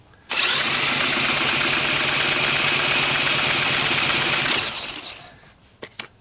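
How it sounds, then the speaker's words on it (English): A Honda ATC185S engine turns over, making a loud, steady mechanical drone for about four seconds that cuts off abruptly and fades into a few faint clicks. "I find a lot of times I turn the engine over"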